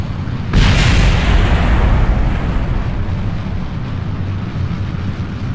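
A rocket blows apart in the space-flight game Kerbal Space Program: one sudden loud blast that becomes a long rumbling roar, fading slowly over several seconds with no voices.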